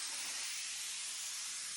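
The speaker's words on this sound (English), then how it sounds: "I'm going to shake up my glue. Go ahead and spray the drywall." Aerosol can of Trim-Tex glue sprayed onto drywall, a continuous close broadband hiss with no other sound.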